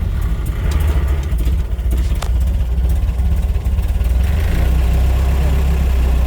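A 1927 Chevrolet Capitol AA delivery truck engine idles steadily with a loud, low, continuous rumble, a brief rise around the middle suggesting starting or throttle, then settling into an even idle.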